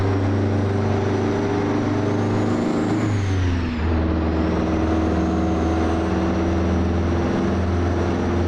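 Truck engine in American Truck Simulator on a Texas road, a loud steady low drone with a deep rumbling tone that briefly shifts pitch midway as if changing gear, then settles back into a constant cruise.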